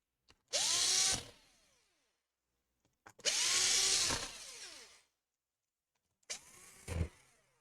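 A power screwdriver set to its lowest torque drives screws during repair of an Acer Aspire 5 A515-46 laptop, three close, loud bursts of whirring motor, the first two about a second long and the last shorter and stuttering, with quiet gaps between.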